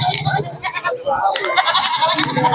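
Goats bleat amid a busy livestock market that also trades pigeons, with several short calls rising over steady crowd chatter and nearby voices talking throughout.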